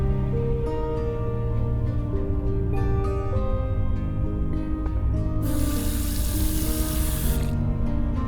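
Water running from a sink tap in the video game Old Skies, a steady close stream pouring throughout with a brief louder hiss near the end, set under soft game music and no talk.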